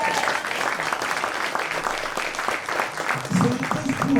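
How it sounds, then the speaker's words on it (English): An audience at a City College jazz band spring concert applauds, a busy clapping texture with voices talking over it, and a lower murmur rising near the end. "Let's give another round of applause."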